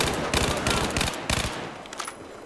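MTAR assault rifle from Battlefield 4, firing rapid close bursts of automatic gunfire that fade into a few scattered distant shots at the end.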